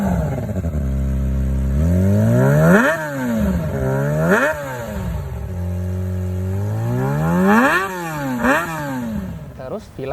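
A Kawasaki Ninja ZX25R fitted with an Almo Black underbelly exhaust with carbon end cap revs repeatedly, loud and close, its pitch climbing and dropping in several sharp blips over a steady idle.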